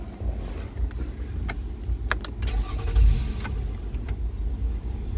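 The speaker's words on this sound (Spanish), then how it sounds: "Entonces vamos a prender el auto." A car engine starts and idles with a low steady rumble and a few sharp mechanical clicks, in an engine that had been shaking from a fuel adjustment fault; the sound is close and runs alone with wind buffeting the microphone.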